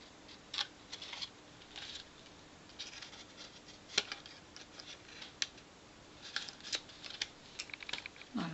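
Scissors snipping a paper Christmas ornament piece, a series of small, close, crisp cuts and ticks scattered irregularly over several seconds with no talking.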